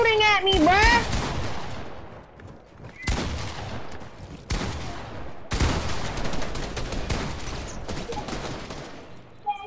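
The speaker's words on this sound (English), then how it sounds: "Bro, the whole lot is shooting at me, bruh!" Bursts of Fortnite gunfire crackle in heavy volleys, several weapons firing at once in loud rapid strings with short gaps between them, with speech-like sounds in the mix.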